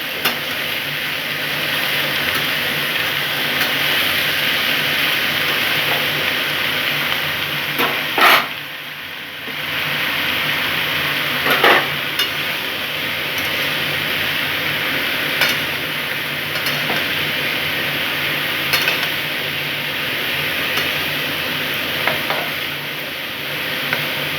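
A pan of bottle gourd with lentil dumplings being stirred, with a steady sizzle and a few sharp scrapes and knocks of the spoon against the pan, no voices.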